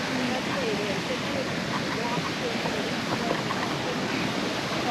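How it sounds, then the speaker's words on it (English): A waterfall rushes in a steady, dense roar of falling water that stays constant and fairly loud throughout, with faint voices mixed in. "Leaving the waterfall now"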